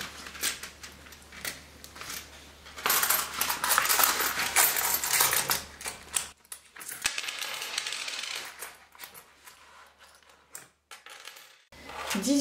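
Saved coins are handled and sorted by hand, giving a run of close, dense metallic clinks and jingles that grow busier midway, then thin out into sparse chinks and scrapes separated by quiet gaps.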